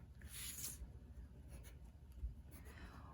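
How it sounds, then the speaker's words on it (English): A pen or pencil drawn along a straight edge, ruling a line on paper for a geometry construction; a soft, steady scratching stroke that rises in the first second, with faint rubbing after, close and quiet. "So we're going to draw a straight line connecting C and D."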